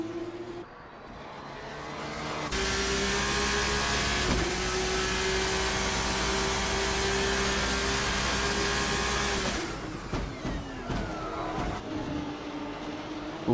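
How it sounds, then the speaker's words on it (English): Race car in a racing video game on a Phillip Island circuit, its engine holding a loud, steady whine that drops sharply as it aggressively downshifts for a corner, then rises again, no talk. "Ooh, the aggressive downshifting."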